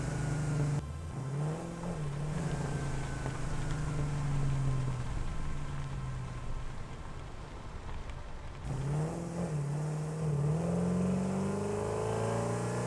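A vehicle engine in the Satisfactory video game drones steadily and close, its pitch rising and falling as it drives, cutting out briefly before revving back up.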